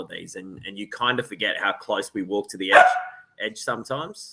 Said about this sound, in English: That's my dog. He's very unhappy at the moment.